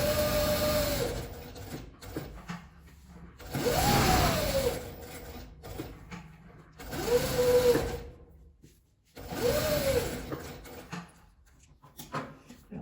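Sewing machine stitching around fabric for a cuticle pliers holder, running in four loud bursts of steady mechanical whirring separated by short pauses.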